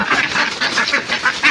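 A duck quacks repeatedly in a series of rapid, harsh calls while someone catches it, the calls close, loud and continuous over a short span.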